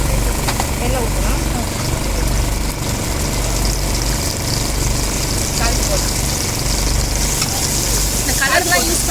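Seafood frying with masala in oil at a busy beach food stall makes a loud, constant sizzle and clatter, with metal scraping against the pan. Steady background chatter and a low engine-like rumble run underneath.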